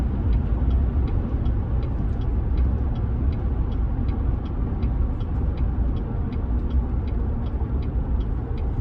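A 2014 Chevrolet Silverado with a transmission shudder drones in a loud, steady low rumble while driving, under a regular faint ticking and with no voices.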